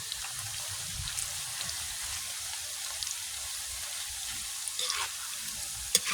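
Slices of banana frying in hot oil, a steady close sizzle and crackle with small pops, running continuously with no voices over it.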